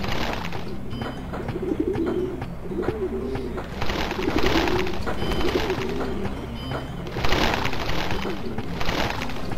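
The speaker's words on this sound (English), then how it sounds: "they almost ran over those pigeons" Pigeons coo in the video game Shenmue, a soft repeated cooing pulsing through the middle seconds over a steady, busy street ambience.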